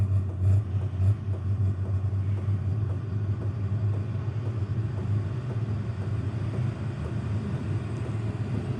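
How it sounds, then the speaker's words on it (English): All-in-one diesel heater with its flame lit and running, a steady low roaring rumble with blower air rush, close and continuous, with no talk. "Now I kind of hear like the flame kick on"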